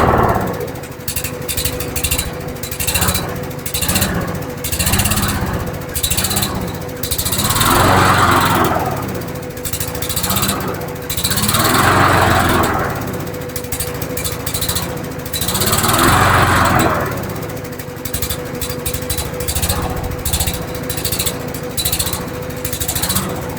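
Canadiana lawnmower engine running loud and close, its pitch and volume swelling and dropping in repeated surges every few seconds, as if choked, with no talk over it.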